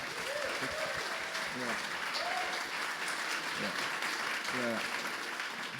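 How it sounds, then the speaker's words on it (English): A live podcast audience applauds steadily throughout, a dense, sustained wash of clapping, with a few voices cheering and calling out over it. "can we give them a round of applause, please?"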